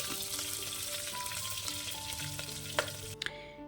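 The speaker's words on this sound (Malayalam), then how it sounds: "ഇനി ഒരു 2-3 പച്ചമുളക് ഒന്ന് കീറിയിട്ടത് അതുകൂടി ചേർക്കാം. പച്ചമുളക് ഒന്ന് മൊരിയണം. ഒന്ന് ഇളക്കിയെടുക്കാം." Slit green chillies fry in hot oil in a pan, giving a steady close sizzle with a few sharp scraping stirs and clicks toward the end.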